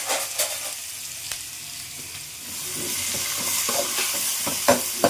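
Onions fry in a pan while a ladle stirs them, a steady sizzle with scraping and clinking strokes that grow busier toward the end; no voices.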